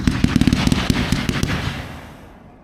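Dominator fireworks slice firing sun glow strobe shots: a quick volley of sharp, loud pops and crackles in the first second and a half, then a fading crackling tail that drops away to near quiet.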